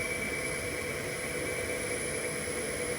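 A new generator hums steadily at about 849 RPM during a low-speed efficiency test, giving a constant, close mechanical drone with faint tonal whine and no talking.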